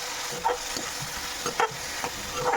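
Ground spices simmer and fry in a pan after a splash of water, for a hilsa with potato and cauliflower curry: a wet sizzle broken by regular scraping stirs.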